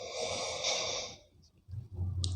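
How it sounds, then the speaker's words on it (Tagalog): A person snoring nearby, one rough nasal breath-like snore followed by a short pause and the start of another low rumbling inhale. "Grabe yung hilik. Tignan mo yung hilik niya."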